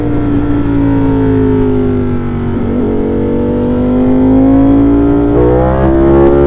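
A car engine revs hard in race mode during a commute, a loud steady drone with rising and falling harmonics that climb near the end, alone and close.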